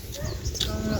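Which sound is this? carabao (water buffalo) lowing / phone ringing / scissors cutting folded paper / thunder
carabao (water buffalo) lowing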